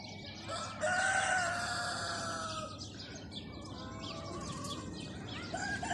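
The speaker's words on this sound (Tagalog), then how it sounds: "Laki ng chicken. Black color." Several chickens, including a large black one, cluck and call nearby in Kuwait, with a rooster-like crow rising among the overlapping squawks against a steady outdoor background.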